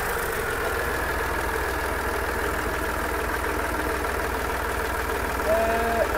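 A Massey 260 tractor engine with about 70–76 running hours idles with a steady low rumble and mechanical hum, continuous and close by, with a brief whine near the end; it emits smoke and leaks.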